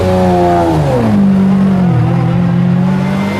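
Ferrari Enzo engine revving loud and close, its note sliding down from a high pitch before settling into a steady, strong drone that holds throughout.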